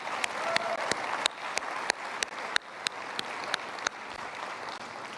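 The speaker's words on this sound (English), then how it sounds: "I'd like to give them another clap." An audience applauds the shipbuilding team at the Icon of the Seas naming ceremony with steady, even clapping, and a few sharp close claps stand out at regular intervals.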